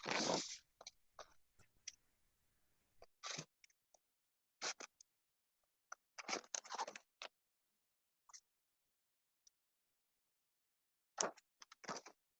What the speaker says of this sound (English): I'm just taking my time, going along with the line to cut out the circle.